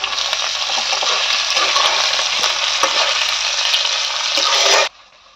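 Onions frying and sizzling in a pan for a home-style country chicken curry, a steady loud crackle with scraping stirs throughout, cutting off abruptly near the end.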